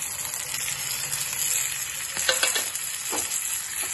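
Shrimp and gongura leaves frying together in a pan for a curry, a constant hissing sizzle broken by a few quick scraping stirs near the end, close and moderate in level, no speech.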